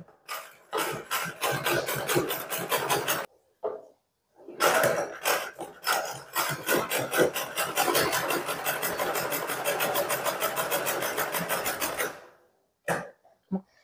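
A sewing machine stitches a petticoat in two long runs of rapid, even mechanical clatter, loud and close, broken by a short pause and ending in a few brief bursts.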